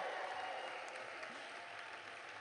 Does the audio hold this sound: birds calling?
no